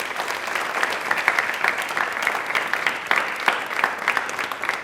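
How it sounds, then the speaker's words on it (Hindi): Energetic clapping from a hall full of young people at a televised Rajasthan quiz programme, with distinct individual claps rising and falling in a lively, uneven rhythm for several seconds. "पहल के लिए तालियां प्लीज एक बार जोरदार बजा दीजिए।"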